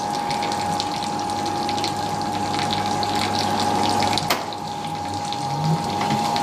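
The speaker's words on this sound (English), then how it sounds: "Still not done draining." A Fisher & Paykel Smart Drive GW712 washing machine drains water, a steady rushing, gurgling flow with a constant pump hum, close and continuous throughout with no talk.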